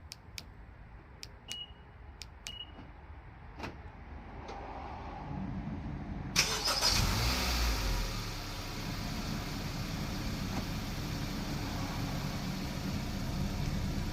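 A Honda HR-V engine turning over by remote start after a few faint lock chirps, catching at once and settling into a steady low idle, heard from near the car.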